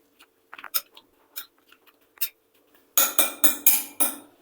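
A spoon scrapes and clinks against a bowl of cucumber mixed with salt, pepper and asafoetida: a few scattered light taps first, then a quick run of louder, rhythmic stirring strokes, close by with no talk.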